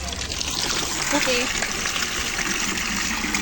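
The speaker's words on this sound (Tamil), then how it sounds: "தண்ணி வந்து கொஞ்சம் ஸ்லோவாக இருக்குது." Water flows slowly with a continuous trickling, splashing wash, close and steady, while a person talks over it.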